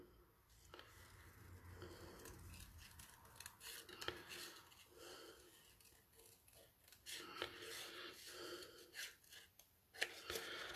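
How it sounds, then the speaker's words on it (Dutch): Scissors snip through paper card stock in a steady series of close, crisp cuts with brief pauses between strokes, quiet and without talk. "Als je goede schaar hebt, doet de schaar het meeste werk voor je. Hoef je alleen het papier een beetje te bewegen."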